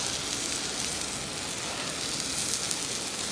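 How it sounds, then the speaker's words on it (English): Dinner sizzling in a pan, a steady dense hiss of frying with no pauses, close and fairly loud, with no voices over it. "just cooking some dinner"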